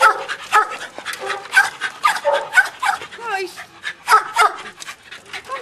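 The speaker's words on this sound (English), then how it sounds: "Have another look at that little dog." A small dog gives rapid, yappy barks mixed with whimpers and yips, up close and continuous, while people talk over it.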